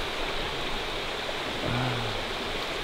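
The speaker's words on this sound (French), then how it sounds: "On a la petite cascade là." Small waterfall and flowing river in a snowy outdoor setting, a steady broadband rush of water that stays constant throughout, with a faint low tone briefly rising near the end.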